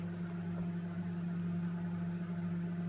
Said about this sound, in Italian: Intanto che lui gira là nel microonde